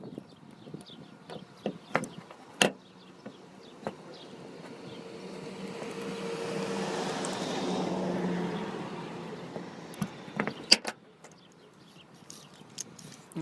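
A freshly swapped motor in a 1/14 scale RC truck spins up to a smooth, steady whir that swells and fades over several seconds, with scattered clicks and taps of handling before and after.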